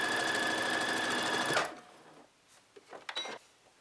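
A Brother Simplicity SB3129 computerized sewing machine stitches in a loud, steady, fast whir for about a second and a half, then stops abruptly, leaving soft fabric handling and small clicks.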